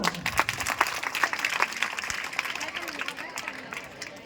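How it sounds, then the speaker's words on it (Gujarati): A crowd claps steadily at a primary school annual day prize-giving, moderately loud, with scattered sharper claps and some voices mixed in. "જોરદાર તાળીઓ."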